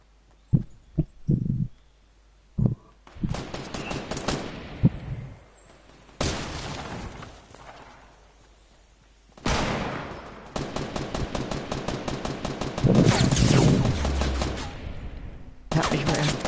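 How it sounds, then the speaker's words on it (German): Gunfire in Fortnite Battle Royale: scattered single shots, then long rapid automatic bursts and sustained volleys, loud and close, with stretches of near silence between exchanges. "Ah, genau, die schießen mich ab."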